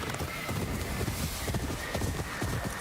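Horse hooves clip-clop steadily at a quick riding pace in the video game Ghost of Yotei, joined by a horse's neigh over a dense, continuous in-game soundscape.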